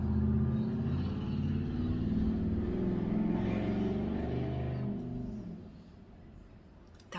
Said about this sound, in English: What would possess someone to make their car sound like that, you know?